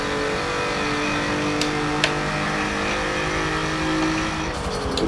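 Subcompact car engine in a racing video game, a steady high-revving drone with shifting pitch as it runs through the gears, moderately loud with brief clicks, no talk.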